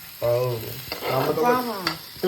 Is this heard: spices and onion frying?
yes